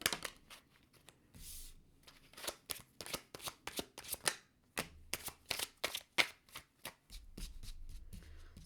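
Tarot cards are shuffled by hand in a long run of crisp, rapid riffles and flicks, close and fairly quiet, with short pauses and no talking.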